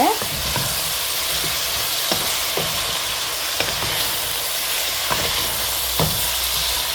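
Chicken curry fries in hot oil as it is stirred, a continuous close sizzle punctuated by regular scraping knocks of the utensil against the pan every second or so.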